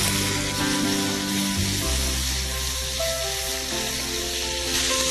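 Boiled sprouted moong beans sauté in a pan with red chilli, making a continuous soft sizzle and hiss, with faint tonal sounds in the background.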